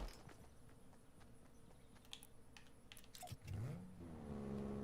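A car engine in the video game Fortnite revs and accelerates near the end, rising in pitch, following quieter game clicks and clatter, with no talk.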